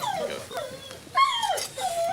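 A sniffer dog searching a garage gives high, wavering whimpers and short whines in a rapid, uneven series, close by and fairly loud.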